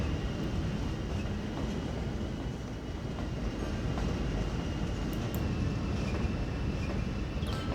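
A train runs along a mining rail line in the city-building game Cities Skylines, a steady loud rumble of wheels and carriages rolling on the track with no break, no voices.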